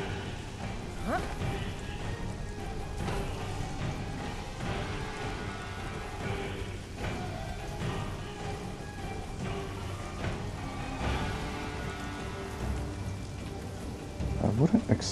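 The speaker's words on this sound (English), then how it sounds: "dark and raining." Steady rain pours down at night in the game Conan Exiles, a dense continuous hiss with scattered heavier crackles and a few louder bursts near the end.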